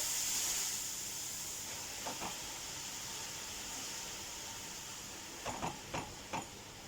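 Chopped spinach blanching in a pot of boiling water gives a steady, soft steamy hiss, broken by a few short clicks and clatters as the leaves are stirred.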